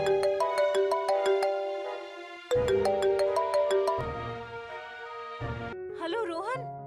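A phone's ringing tone plays in steady electronic repeating bursts, loud and close, with brief pauses between rings and a warbling melodic tail at the end.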